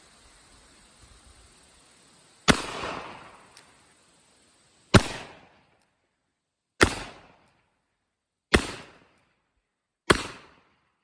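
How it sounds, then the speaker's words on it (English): Five loud black powder shots from a Pietta 1860 Army revolver loaded with 3F Graff and Sons powder, fired one at a time about two seconds apart, each a sharp crack with a short decaying echo outdoors. "That was 3F Graff and Sons, those last 4 shots."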